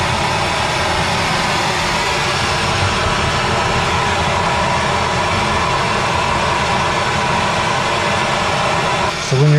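A gas torch roars steadily and loudly, a constant broad rushing hiss without pause, as it burns for soldering copper pipe.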